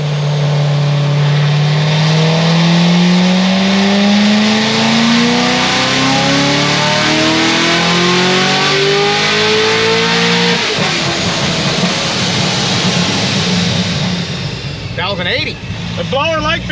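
A 1250-horsepower Corvette C7 Z06 engine on a dyno, rising steadily in a loud, continuous pull before cutting off, followed by blower whine and exhaust burble while voices talk over it.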